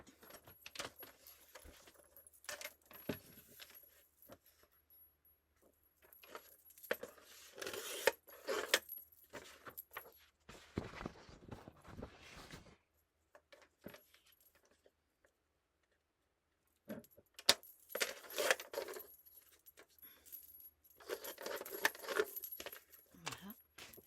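Scissors snipping card stock to size for a handmade bookmark card, close, intermittent crisp cuts and handling noises in bursts separated by quiet pauses.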